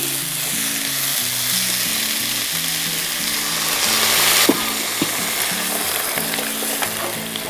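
Tomatoes frying in a pan as water is poured in, a loud, dense sizzle and hiss that surges briefly, close up with steady stirring scrapes and no talking.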